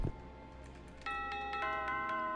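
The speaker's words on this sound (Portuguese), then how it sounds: "Toca a campainha pra chamar atenção." A doorbell rings in a horror video game, a series of bright chiming tones struck repeatedly in quick succession over a low background drone.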